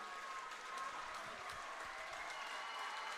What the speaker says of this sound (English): Alva gets a deserved and generous round of applause.